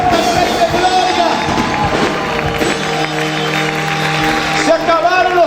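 A loud church congregation shouts and applauds in praise, sustained clapping and cheering voices blending with amplified singing and music throughout.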